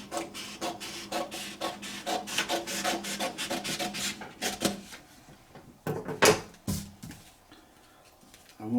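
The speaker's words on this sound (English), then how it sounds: "took a pair of scissors, going to trim this down to size" Scissors cut through a sheet of paper in a quick series of close, crisp snipping and rasping strokes, then a few scattered snips and rustles after a short pause.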